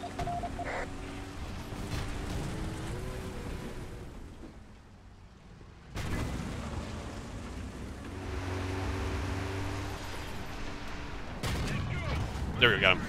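Tank cannon fire in the War Thunder video game, with broad, heavy blasts around one and twelve seconds over steady engine rumble and battle noise, with someone talking over it.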